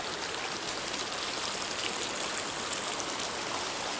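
Snowmelt stream running near waterfalls in a backcountry wilderness, a steady broadband rush of flowing water, soft and continuous with no voices.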